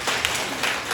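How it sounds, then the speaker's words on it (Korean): A church audience at a talk in Gangneung Seonyang Church claps together in a brief, dense burst of applause, loud and close, with no voices over it. "박수 한번 쳐주세요."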